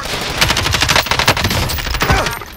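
Rapid automatic gunfire in the Modern Warfare Warzone battle royale video game, dense bursts of loud close shots rattling continuously with a few heavier reports, no talk over it.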